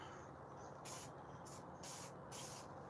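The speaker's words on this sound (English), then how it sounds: "I'm going to hit it with a brown, and then I might have some overspray to clean up." Spray can applying brown paint in a workshop, four short close bursts of hissing spray separated by pauses over a faint background hum.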